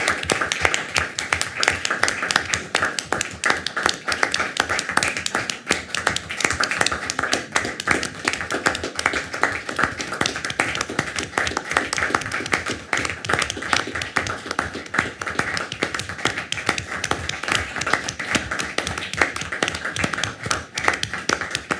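Steady, thin clapping from a small group at a community college district board meeting continues for a long stretch, the claps sounding close and a little sparse.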